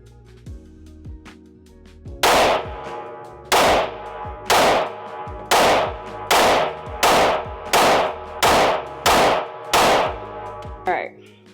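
Glock 43X MOS pistol fired at a shooting range, eleven loud, sharp shots in a steady measured rhythm, each with a short ringing decay, and no talking.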